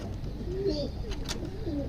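Soft pigeon cooing, a low throaty warble repeated a couple of times close by, with faint background noise.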